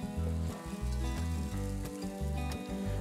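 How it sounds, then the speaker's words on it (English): Enoki mushrooms sautéing with a little salt in a pan give off a soft, continuous sizzle, fairly quiet and close, with faint crackling bits throughout. "So we're just gonna saute them with a little bit of salt."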